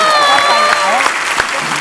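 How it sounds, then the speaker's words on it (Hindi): Loud studio-audience applause greets a guest on a Hindi comedy talk show, a dense steady wash of clapping with a voice and music-like tones running over it. "जोरदार ताली हो जाए विद्या जी की"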